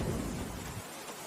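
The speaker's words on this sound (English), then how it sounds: "Listen to that rain. Gentle but persistent, isn't it?" Gentle, persistent rain falls as a soft steady hiss with a low rumble that fades partway through, quiet and brief.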